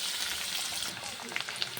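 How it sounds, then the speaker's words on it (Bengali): Chopped potatoes lightly frying in a pan as the first step of a small-fish, eggplant and potato dish: a brief, soft, steady sizzle with a few small pops near the end, no talking. "আলুটা আগে একটু হালকা ভেজে নিই, তারপর বেগুনটা দেবো।"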